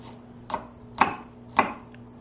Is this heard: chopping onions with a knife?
yes